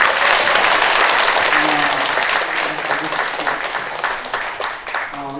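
Steady, dense applause from a seated audience at a Korean humanities symposium, loud and sustained throughout before easing slightly toward the end.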